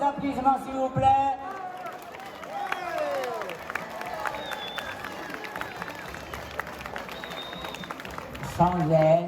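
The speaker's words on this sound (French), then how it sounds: "Applaudissements s'il vous plaît." Audience clapping at a Lao New Year party in Cholet, France: a dense, steady patter of applause from a hall crowd that swells for several seconds, with voices and music around its start and end.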